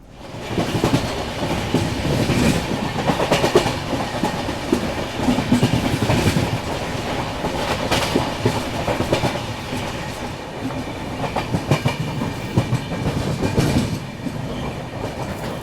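A passenger train out of Godhra runs through the yard on its approach to Vadodara Junction. Wheels clack rhythmically over a continuous, close, loud rumble with no talk.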